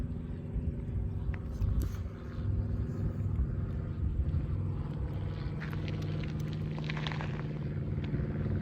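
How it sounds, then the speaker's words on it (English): A low, steady rumble of an airplane passing overhead, swelling slightly near the end, with faint traffic noise in the background. "There's the plane."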